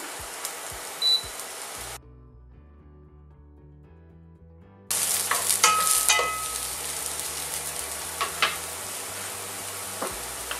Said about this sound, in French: Ah, couleur noisette, on met des champignons. Donc là, on va bien les faire saisir.